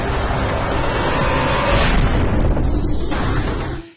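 A heavy, rumbling blast roars on for a few seconds, deep and close, then fades as a hiss of debris dies away.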